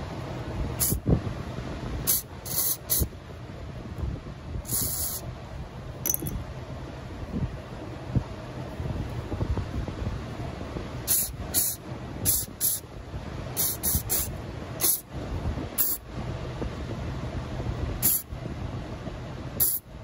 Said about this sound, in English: we're going to clean these out with some carb spray